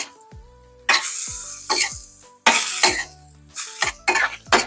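Tofu cubes in chili sauce stirred in a hot pan, several separate scraping, sizzling strokes of a utensil against the pan, close and loud with short quiet gaps and no talking.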